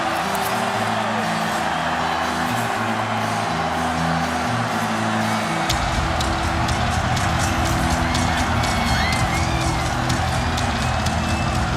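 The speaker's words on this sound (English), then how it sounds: "Man, what a crowd." A stadium crowd roars on and on at Lane Stadium after Virginia Tech's upset of North Carolina. The dense, far-off cheering builds louder in the second half, with whoops and scattered shouts.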